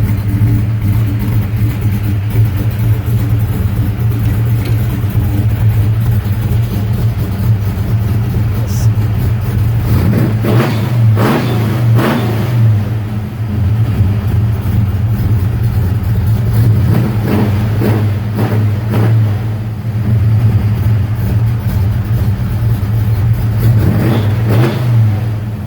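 A cold engine fitted with a Holley carburetor burbles unevenly while running rich on choke, a steady low rumble with a few revs swelling and falling in the middle, loud and close.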